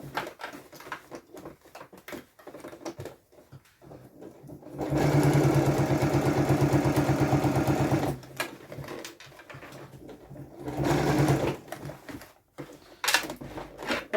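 A sewing machine stitches fabric slowly around a curved edge, with a steady loud run of rapid needle beats for about three seconds, a shorter second burst later, and quieter handling of the cloth between runs.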